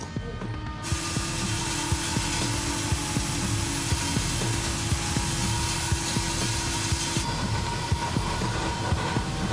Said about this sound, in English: The drillers now bring in the big gun, an 8-inch wide, custom-made diamond tooth drill.